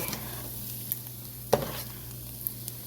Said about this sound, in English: So you saute the onions until they become translucent.